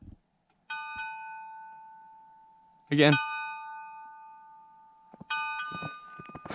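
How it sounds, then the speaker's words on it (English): Old bell in a historic 1870s church, struck a few times: clear ringing tones with long fading decay, separated by gaps, and a person speaking briefly between strikes. "Well, the bell still works."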